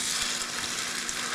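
Eggplant torta frying in oil, a steady, dense sizzle with fine crackling spatter, close and even throughout the short clip, no voices.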